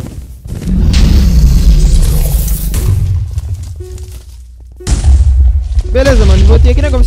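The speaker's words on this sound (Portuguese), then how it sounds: "esse maluco tá explodindo tudo, galera" Booming blasts ring out in the Minecraft Skyfall minigame, deep low rumbles layered with game sounds while someone talks excitedly over them.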